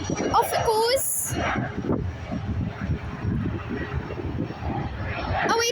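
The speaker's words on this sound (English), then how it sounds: "Here goes this Embraer RG145, which has been waiting for about 20 minutes to get onto the runway." Embraer ERJ145 regional jet taking off at Edinburgh Airport, a steady roaring engine rumble heard from a distance under people chatting, with a brief whining tone early on.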